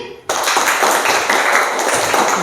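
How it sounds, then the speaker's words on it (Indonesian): A classroom of students claps for a classmate, with a short, sudden burst of close, lively clapping that starts after a brief quiet and stays fairly loud throughout. "Tepuk tangan untuk Justin."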